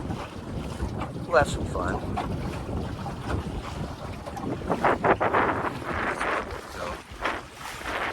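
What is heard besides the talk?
wind blowing on a sailboat on a lake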